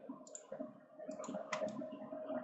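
Computer mouse clicks while working in CATIA design software, a few sharp, quiet clicks spaced out over a low background hum, close to the microphone.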